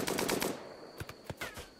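Gunfire in the video game RimWorld during an animal hunt: a rapid burst of several shots up front, then a few sharper single shots spaced apart, faint and close.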